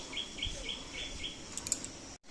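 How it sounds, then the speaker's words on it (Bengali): Birds chirp outdoors on a bright sunny morning, a series of quiet, high repeated tweets at a moderate distance over light background noise. "পাখির ডাক হালকা হাওয়া"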